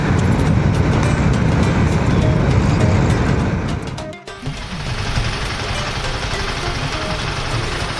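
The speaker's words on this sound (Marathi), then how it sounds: "भरपूर ट्रॅफिक लागलं." Heavy traffic jam on a highway, a loud, dense roar of engines and road noise heard close by from a motorbike, briefly dipping near the middle before resuming, with talking mixed in.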